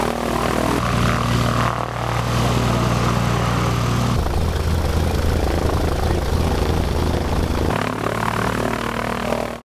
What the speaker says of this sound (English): everyone loads up the plane for takeoff